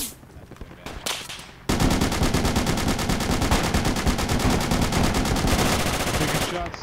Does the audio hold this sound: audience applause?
no